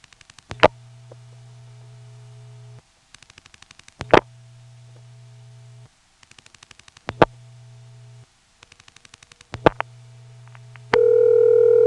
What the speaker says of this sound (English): let's call a 946 ringing number